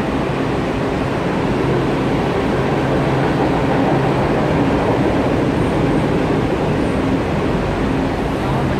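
A Washington-area Metro train at an underground station makes a loud, steady rumble that fills the whole span, with a voice faintly present.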